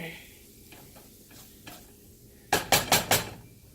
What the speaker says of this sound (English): Let's give it a couple of seconds to get that sizzle on